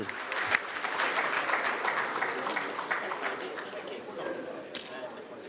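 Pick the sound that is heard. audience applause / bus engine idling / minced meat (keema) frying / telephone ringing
audience applause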